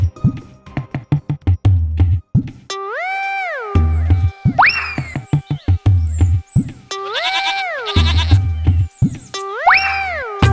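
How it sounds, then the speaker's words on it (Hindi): A cartoon goat bleats several times in a row, each cry a loud, wavering, nasal call with a springy lift, separated by short thumps and pauses. "मैं अभी बकरी लेकर आता हूँ।"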